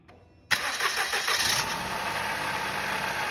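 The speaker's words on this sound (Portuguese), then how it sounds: "Dá partida aí, Cauã." A Move Custom car engine cranks and starts abruptly, then settles into a loud, steady idle that stays close and continuous.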